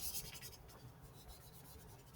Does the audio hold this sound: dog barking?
no